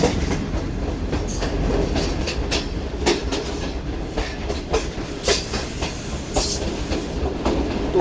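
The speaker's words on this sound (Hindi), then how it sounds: "पहले हमारी ट्रेन राइट कर्व लेगी और उसके बाद एक लॉन्ग कर्व लेते हुए पहाड़ों के अंदर से निकलेगी।" A passenger train runs on rails through hilly country with a steady rumbling roll and a loud, close clickety-clack of wheels over rail joints, plus occasional sharper knocks and faint squeals.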